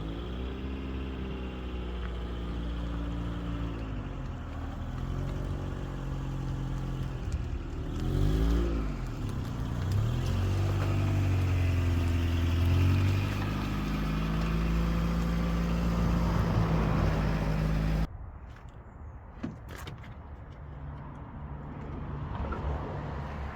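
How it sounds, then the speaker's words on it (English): A Rover car's engine runs steadily as it reverses, a low rumble with a rising rev surge partway through, then cuts to a quieter idle-like hum near the end. "I'm going to reverse the Rover up here first"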